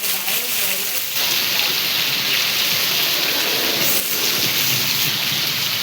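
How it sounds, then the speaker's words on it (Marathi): Heavy first monsoon rain pours down in Devgad on the Konkan coast, a dense, loud and continuous roar of water hitting surfaces nearby, steady across the whole stretch. "पहिला पाऊस."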